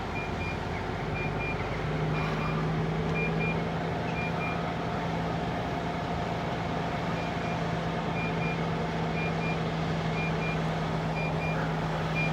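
A truck backing up in a car park sounds its reversing alarm, a steady series of evenly spaced beeps repeating throughout over a constant low engine rumble, with no talking.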